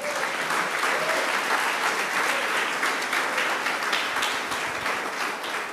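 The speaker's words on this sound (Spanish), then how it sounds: "Denle un aplauso a Jesús" A church congregation applauds for Jesus, a dense, sustained burst of many hands clapping together that fills the room at steady strength.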